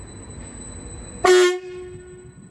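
A Greater Anglia train departing Ipswich for Norwich sounds a loud, sustained two-tone horn blast for about a third of a second over low rumbling station background.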